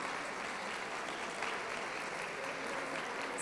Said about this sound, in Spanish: Un aplauso, muchísimas gracias por estar acá.